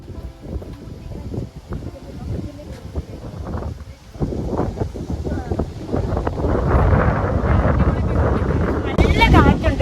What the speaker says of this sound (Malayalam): നല്ല കാറ്റുണ്ട് കേട്ടോ, നല്ല കിട്ടിയ കാറ്റ്.